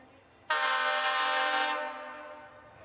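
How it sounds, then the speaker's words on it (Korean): A Gyeongchun Line train sounds its horn, a single loud sustained harmonic blast that starts abruptly and holds steady before slowly fading away, with no voices. "그 어느 때보다 슬픈 기적 소리."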